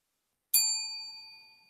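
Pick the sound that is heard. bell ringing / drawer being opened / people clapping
bell ringing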